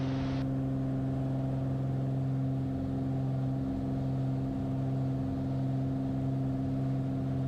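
Small airplane's piston engine running at full takeoff power on departure from Port Angeles, a steady loud droning hum with strong tonal harmonics that holds constant throughout, close and continuous with no talk.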